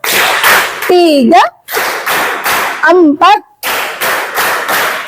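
Students in a classroom science lesson clap in quick counted groups of bursts, loud and sharp, while a voice calls out numbers between the claps.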